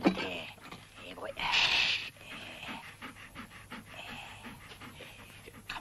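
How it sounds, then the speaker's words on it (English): A dog pants in quick rhythmic breaths close by, with a brief louder burst partway through and soft rustling, fairly quiet overall with no clear talk. "there's a dog"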